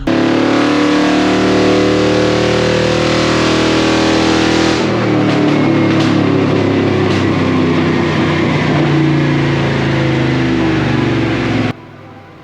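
A small-block Chevy Vortec engine in a GMT400 truck on a chassis dyno pull to 5,000 RPM: loud, sustained droning roar that climbs in pitch, then cuts off abruptly near the end.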